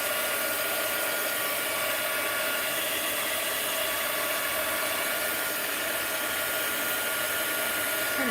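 A loud, close hair dryer blasts continuously over thick wet paint on an artwork, a dense unbroken roar that fills the whole stretch without pause.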